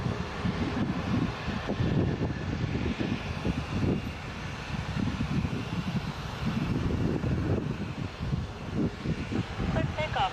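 Jazz Embraer 175 jet taking off at Toronto Pearson, a broad distant roar of jet engines mixed with wind noise, steady and moderately faint throughout.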